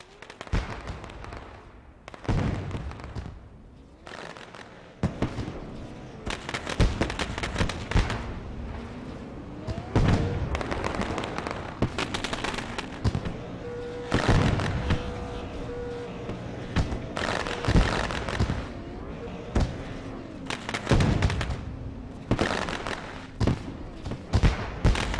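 Fireworks go off at Richmond race track, sounding as many sharp, irregular bangs and crackles that keep coming at a steady moderate loudness, with distant engine noise and crowd noise underneath.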